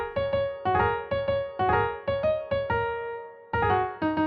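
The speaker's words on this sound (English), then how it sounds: "Pentatonic means a scale that uses just the sharps or flats" A short pentatonic melody of clear, bell-like plucked notes steps through a simple phrase, each note decaying quickly, with a brief pause before the last few tones.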